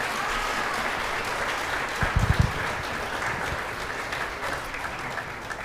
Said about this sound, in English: Please applaud that.